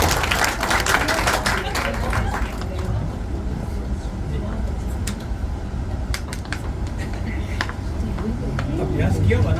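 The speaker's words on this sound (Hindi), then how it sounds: "तो एक बार पंकज उदास के लिए तालियां हो जाएं" An audience at a Hindu New Year poetry gathering claps for Pankaj Udhas, a dense wash of applause from a crowd with a noisy hall background, strongest at the start and swelling again near the end.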